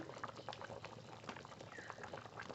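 Chicken curry with potatoes and tomato, finished with meat masala and mustard oil, bubbles and simmers in a pot, a steady close gurgling and popping without a break.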